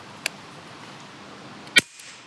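An AEA HP SS air rifle fires H&N Hornet pellets, two sharp, close cracks about a second and a half apart, the second much louder, over quiet background hiss.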